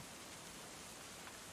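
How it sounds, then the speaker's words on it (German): Heavy rain in the medieval colony-building game Going Medieval, a steady, even hiss of downpour at low level with no distinct drops or talking. "Es ist unfassbar, wie krass es regnet."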